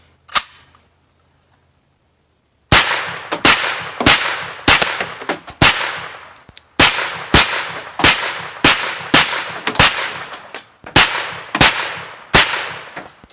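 A Kalashnikov USA KR9 9mm AK rifle fires at clay targets outdoors. After a short silence come about fifteen loud, sharp single shots at a steady, deliberate pace, each followed by a brief ringing decay.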